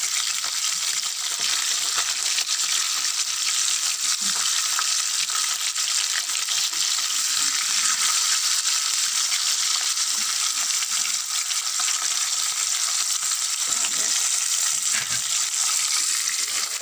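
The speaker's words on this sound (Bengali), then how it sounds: "এবার ফ্রাই করে রান্না করবো, আস্তে ফ্রাই করে রান্না করবো।" Food frying in a pan while home cooking, a dense, continuous sizzle held at a steady level throughout, close and fairly loud, with no talking.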